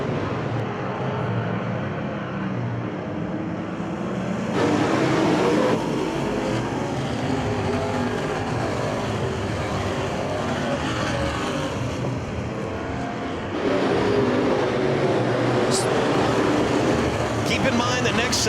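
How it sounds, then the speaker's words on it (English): Race cars roar around Winston Speedway in a steady distant drone, with louder swells as packs pass nearby, under a track announcer's commentary. "the fast cars are running"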